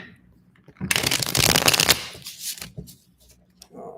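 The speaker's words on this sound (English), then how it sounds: "let me shuffle these cards real quick." Tarot cards being shuffled during a reading, a dense burst of riffling and flapping card noise for about a second, then softer shuffles trailing off, with no talk.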